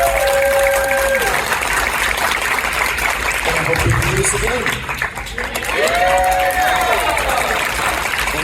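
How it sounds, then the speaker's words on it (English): Audience applause at the close of a live game-community panel, a steady wash of clapping with a few cheers, while a host talks over it near the mic. "So, one more applause for them."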